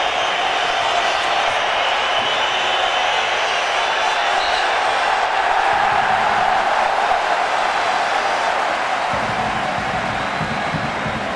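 A basketball arena crowd in Madrid roars steadily during a Spain versus USA game, a loud, continuous wash of cheering and noise with a commentator talking over it.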